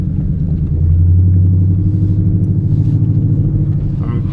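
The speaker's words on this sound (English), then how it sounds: "drive through the streets, drive through a little highway, do some pulls, let you guys hear how my car sounds" A 2020 Ford Mustang 5.0 V8 with a muffler delete pulls away in first gear at night, a deep loud rumbling exhaust heard from inside the car that swells briefly then settles into a steady throb.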